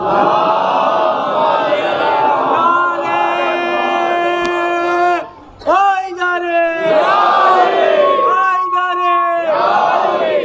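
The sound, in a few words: crowd loudly chanting salawat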